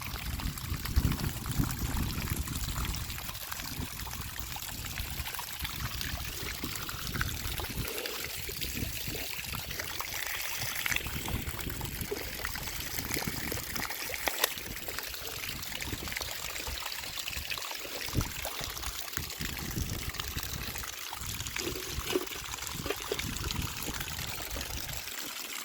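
Irrigation water trickling and streaming steadily along the rows of a corn field being prepped for winter goat silage, a continuous close wash of flowing water with no talk.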